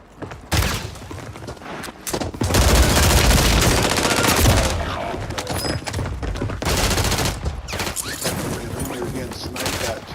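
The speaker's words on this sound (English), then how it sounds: "You're getting sniped at too." Gunfire in a Warzone battle royale match, including sniper shots, bursts loudly across the clip amid dense game noise, with voices talking over the action.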